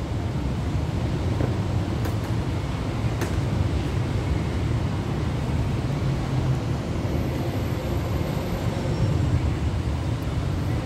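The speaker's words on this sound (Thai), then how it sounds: "ไม่ต้องเข็นของนะครับเข็นไปตามรางสะดวกรวดเร็วปลอดภัย" A hand-pushed rail trolley rolls along railway tracks beside trackside homes on the Urupong–Phaya Thai line in Bangkok, giving a continuous low rumbling roll with faint metallic ticks, steady and fairly close throughout.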